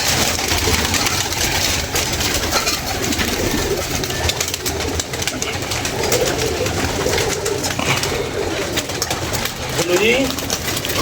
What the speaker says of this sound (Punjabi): ਮੈਂ ਤੁਹਾਨੂੰ ਕਬੂਤਰ ਕੱਢ ਕੇ ਦਿੰਦਾ ਵਾ